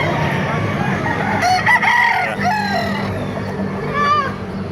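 Roosters crow repeatedly amid clucking chickens at an open poultry market in Baliuag, loud and close, with someone talking over the birds.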